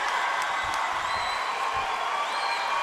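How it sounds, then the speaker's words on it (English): A high school boys basketball crowd in a gym at a regional championship game keeps up a loud, dense, steady roar of cheering and shouting, with a few whistles and whoops in the mix. "And listen to this crowd."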